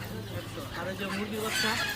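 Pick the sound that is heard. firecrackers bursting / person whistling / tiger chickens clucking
tiger chickens clucking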